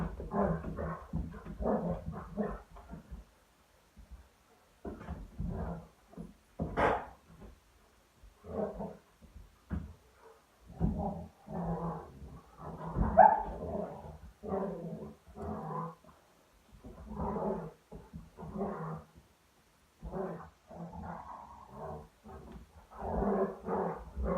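A dog barks and whimpers in short repeated bursts, close and fairly loud, with some growly yelps and brief pauses between outbursts.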